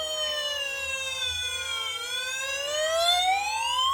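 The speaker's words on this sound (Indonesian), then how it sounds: "ada suara sirine pemadam kebakaran" A toy fire engine's electronic siren wails steadily up close, its rising and falling tone sweeping continuously and growing slightly louder toward the end, with no voices over it.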